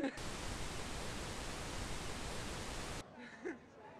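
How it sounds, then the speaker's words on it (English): A steady, loud hiss of white noise runs for about three seconds, then cuts off abruptly into near silence. "Maybe some white noise."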